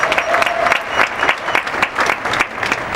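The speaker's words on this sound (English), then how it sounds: "it is my belief that both the Kenyan group as well as the Seychelles group deserves a warm round of applause" An audience in a hall claps warmly for the Kenyan and Seychelles youth groups, a dense, steady burst of many hands close by that keeps going without a break.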